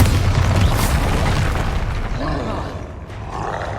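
A Bombarda spell explosion in a Harry Potter-style game, a deep booming blast that rolls out into a long fading roar, loud and close.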